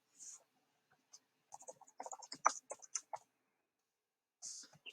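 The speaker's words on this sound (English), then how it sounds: "You start typing in the address." Light keyboard typing as an address is entered: scattered soft clicks, then a quick close burst of keystrokes before a pause and a final few taps, faint and dry in a quiet room.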